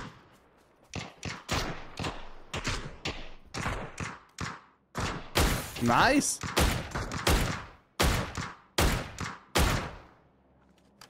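Rapid bursts of gunfire in the video game PUBG crack out in clusters, loud and close, with a voice speaking briefly in German between the volleys.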